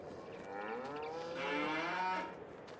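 Cows mooing in a farm roleplay video game, one long drawn-out low moo swelling in the middle and fading, fairly clear with no talk.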